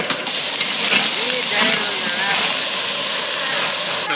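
Tomatoes and a handful of curry leaves sautéing in oil for a village-style mutton curry, a loud continuous hiss and sizzle close by with a few faint scraping stirs, and a voice briefly heard over it.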